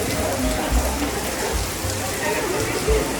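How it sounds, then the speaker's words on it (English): Steady rain falls during a thunderstorm in Toledo, Spain, a dense, even hiss of drops with a few heavier low patters, close and continuous throughout. "Now it's there's some thunderstorm with rain"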